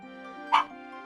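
A single short dog bark cuts in from the background over the low hum of a video game soundtrack, one brief burst in an otherwise steady scene.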